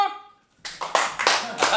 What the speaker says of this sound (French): Il y a des gens qui applaudissent à tous les points.